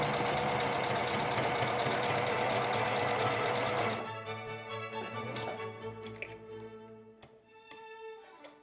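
Sewing machine running steadily while stitching a zigzag seam, a loud continuous mechanical whir that stops after about four seconds, leaving faint clicks and handling noise.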